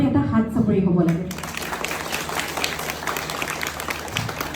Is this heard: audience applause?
yes